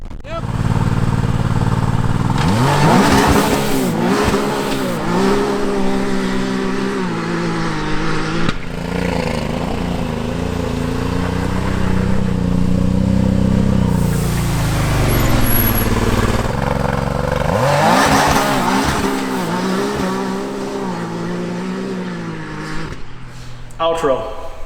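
A Can-Am Maverick R side-by-side engine fitted with a new blow-off valve revs hard outdoors in repeated rising and falling surges. The engine is loud and close, with wind noise and some voices in the background.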